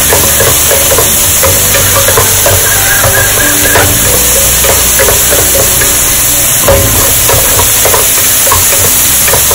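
Onions and tomatoes sauté over a high flame, giving a loud, dense sizzle close by with the scrape of stirring running through it. The sound is continuous and no one speaks.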